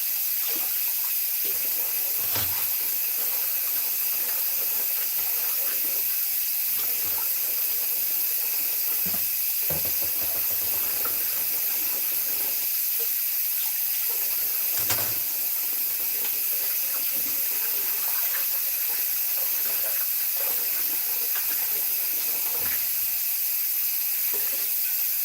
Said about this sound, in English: I'm going to go ahead and wash my knife